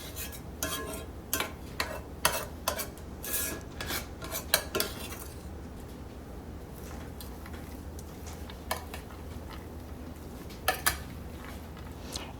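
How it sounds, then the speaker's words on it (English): A knife chops potatoes for mashed potatoes, a run of sharp, irregular knocks on a cutting board that thins out into a quieter stretch with a few scattered taps near the end. "I'm just cutting up these potatoes to make some mashed potatoes"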